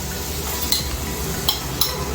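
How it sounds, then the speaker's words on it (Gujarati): Spoon stirring peas into a tacos filling in a pan, a soft continuous scraping with a few sharp metallic clinks against the pan, close and alone without talk. "બરાબર મિક્સ કરશું। આપણે વટાણા નાખશું 3 ટેબલસ્પૂન।"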